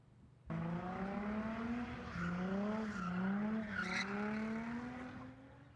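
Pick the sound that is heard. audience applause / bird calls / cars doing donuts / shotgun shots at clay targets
cars doing donuts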